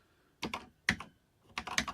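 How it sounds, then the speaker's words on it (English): Keys on a stiff computer keyboard clack in three short bursts of a few presses each, close and crisp, with quiet gaps between and no talk. "Keyboard feels a lot stiffer on this."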